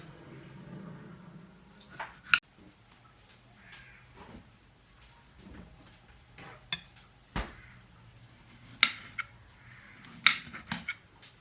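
Tomatoes being cut into 1 cm pieces with a knife on a board, sharp intermittent chopping clicks and a few scattered knocks against a quiet background, with no talking.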